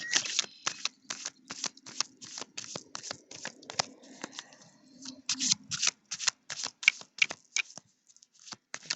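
Tarot cards being shuffled by hand, a steady run of crisp riffling flicks and snaps repeating close up for several seconds, with no voice over them.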